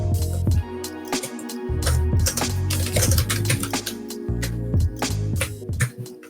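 Keys clack on a ThinkPad keyboard hooked up to an Android tablet, a close, crisp run of quick taps in short uneven bursts with brief pauses between.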